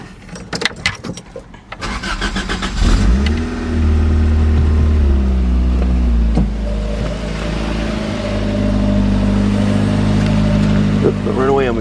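A 1988 Toyota MR-2 with a factory supercharger and intercooler and a five-speed manual starts with keys jangling, then the engine settles into a loud steady drive with rising revs and gear changes, someone talking over it.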